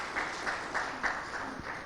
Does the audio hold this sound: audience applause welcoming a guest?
yes